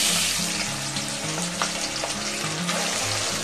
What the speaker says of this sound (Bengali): মাংসটা যেটা আমি ম্যারিনেট করে রেখেছিলাম এটা এবার এই তেলের উপর গরম তেলে দিয়ে দেব